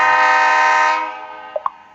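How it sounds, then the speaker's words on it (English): A train in a train station tycoon video game starts up with a loud sustained horn blast that fades out over a couple of seconds, followed by two brief blips of game sound. "Start the train with Julian Key and go to Everest Camp."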